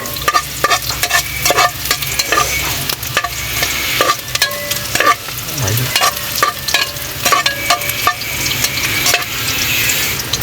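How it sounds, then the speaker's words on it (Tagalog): Ginger sautéing in a pan for chicken tinola, a loud close sizzle with frequent sharp scrapes and taps of a spatula stirring against the pan in an irregular rhythm. "Ito tayo po magigisa na."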